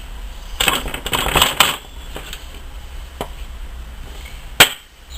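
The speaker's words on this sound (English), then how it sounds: "so I shall cut the loin end of the chops off" A knife cutting through venison chops to remove the loin end, giving a cluster of crisp chopping knocks followed by a couple of isolated sharper taps, close and alone.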